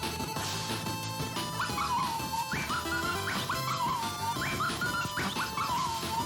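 A dog in the Axe Cop video game whimpers and yips in a repeating pattern of short rising cries, heard over continuous game music with no talking.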